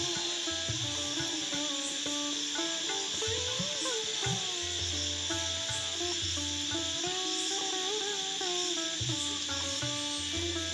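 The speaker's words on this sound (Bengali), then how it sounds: "কেমন ঝিঝি পোকা ডাকছে" A continuous chorus of crickets at night around a village house, a high, even drone that hangs faintly in the background with a few soft indistinct sounds beneath it.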